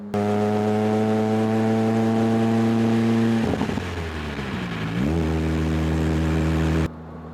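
A Lotus Elise or Alfa Romeo 4C is driven gently on a cold engine, its steady close drone dipping and shifting pitch through a couple of gear changes before settling back into an even hum.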